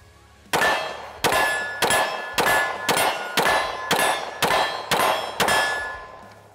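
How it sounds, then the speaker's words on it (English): A full-size Sig P320 pistol fired in a steady string of nine shots, each a sharp, loud report followed by a ringing metallic clang that fades before the next, evenly spaced about two-thirds of a second apart, with no voices. "we're gonna shoot the standard 320 full size"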